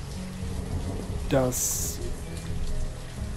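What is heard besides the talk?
rain and thunder in video game Banished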